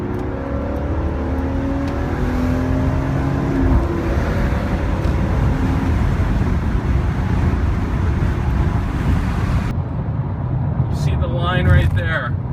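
An E46 BMW M3 in sport mode with the transmission in its fifth setting, out on a track among other cars: a loud, steady engine drone with wind and road roar, close and continuous throughout, then a brief higher whine near the end.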